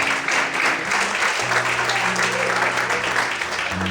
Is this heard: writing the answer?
no